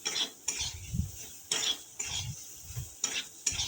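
A spatula scrapes and stirs onion and eggplant in a pan, rhythmic strokes about every half second with a faint sizzle underneath.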